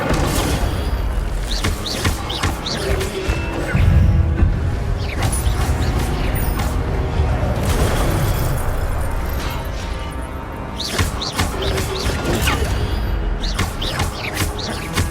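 The Incendio fire spell from the video game Hogwarts Legacy, cast in repeated loud, booming bursts amid dense, continuous battle effects and a steady wash of game sound.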